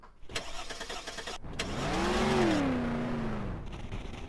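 A car in an off-road racing game turns over and stalls. A rough cranking engine rises into a brief whining strain that sags and cuts out, with mechanical clatter before and after.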